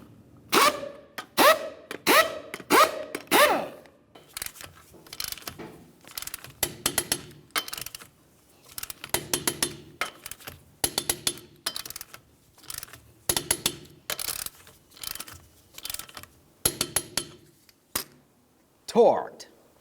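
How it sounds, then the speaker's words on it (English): A torque wrench ratchets in quick bursts of clicks as 19mm lug nuts are tightened on a 2010-2013 Ford Transit Connect wheel, sharp close metallic clicking in clusters separated by short pauses, ending with a final click. "We'll get the wheel safely back on the ground and then torque them to 100 foot-pounds."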